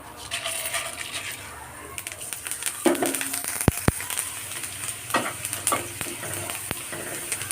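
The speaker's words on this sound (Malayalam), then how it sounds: "കടുക് പൊട്ടിക്കഴിഞ്ഞ് ഇനി ഇതിലേക്ക് ഞാൻ ഇട്ട് കൊടുക്കുന്നത് കുറച്ച് ഉഴുന്നാണ്" Urad dal dropped into hot oil with mustard seeds that have already popped, for rava upma, gives a steady close sizzle with scattered crackles and a few sharp pops, and no voices.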